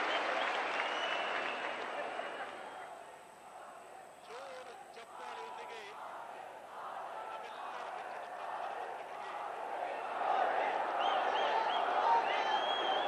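A large crowd at a political rally in Karnataka applauding, a dense sustained roar of clapping that dips briefly then swells louder again, with cheers and voices mixed in.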